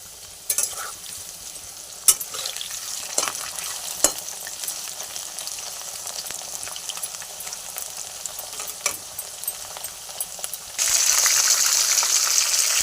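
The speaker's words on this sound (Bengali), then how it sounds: "মাছগুলো এখন ভেজে নেব মাথাটা ভেজে নিয়েছি এবার মাছটা ভেজে নেব" Fish fries in hot oil on a home stove, a steady close sizzle with scattered pops and crackles, growing suddenly louder and brighter near the end, with no talk.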